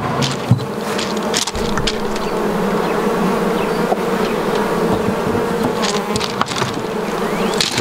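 Honey bees buzz steadily around an open hive with frames of brood, a dense continuous swarm drone close by, with a few louder individual bees passing near.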